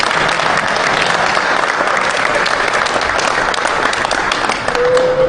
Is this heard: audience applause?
yes